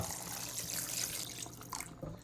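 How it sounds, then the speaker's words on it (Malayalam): Water, three cups, is poured into a chicken biryani pot in a steady splashing stream, close and moderately loud, tapering off near the end with a few final splashes. "നമ്മൾ മൂന്ന് കപ്പ് വെള്ളം ഒഴിച്ചു കൊടുക്കേണ്ട"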